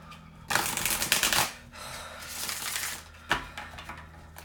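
Tarot cards shuffled by hand during a reading, giving two bursts of crisp riffling and fluttering close to the microphone, a longer rustling stretch, then a final short snap of the deck.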